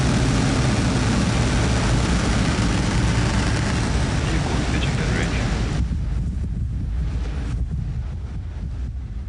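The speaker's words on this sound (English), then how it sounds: "Ignition. And liftoff." A SpaceX rocket lifts off carrying a SiriusXM satellite, a loud, continuous roar with wind-buffeted rumble that fades slightly toward the end.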